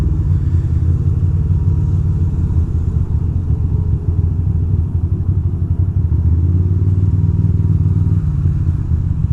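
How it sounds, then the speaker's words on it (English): A garbage truck drives close behind on a Bushwick city street, its heavy engine producing a loud, continuous low rumble with clattering and traffic noise, steady throughout without talk. "There's a garbage truck behind me."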